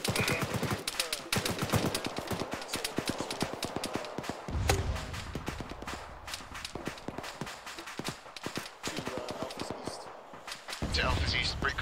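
Aircraft gun run in ArmA 3, a rapid burst of strafing fire with dense cracking shots over several seconds, fairly loud and close, with a voice talking over parts of it.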